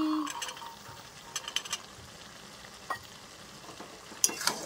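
Green peas tipped into cabbage frying in a pan, with a steady soft sizzle, a few light stirring scrapes and clinks of a utensil against the pan, close and fairly quiet.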